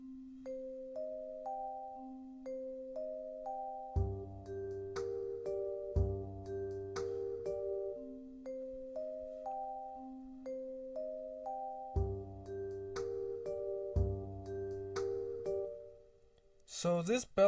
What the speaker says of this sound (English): and this is how the bells sound like